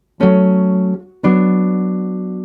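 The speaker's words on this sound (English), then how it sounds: "Listen to the difference between the minor chord 5 moving to chord 1" A minor five chord resolving up to the one chord, played as two sustained harmonic chords, each struck once and left to ring, the second slowly fading.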